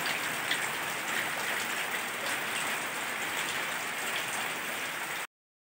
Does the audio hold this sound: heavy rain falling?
yes